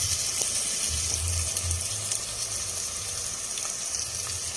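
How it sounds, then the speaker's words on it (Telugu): Water poured into frying onion curry makes a continuous rushing, gushing hiss that blends into a sizzle and holds steady throughout, with no voices. "కొద్దిగా వాటర్ పోసేస్తాను"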